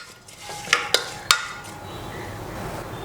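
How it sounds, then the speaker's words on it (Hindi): Onions fry in a pan with salt while a spoon stirs them, giving a low steady sizzle broken by three sharp metallic clinks of the spoon against the pan. "और प्याज को हम हल्का सा सुनहरा होने तक भून लेंगे।"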